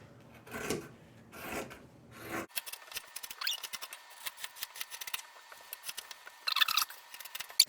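Scissors snip through fabric in a quick series of crisp cuts, after some rustling handling noises at the start.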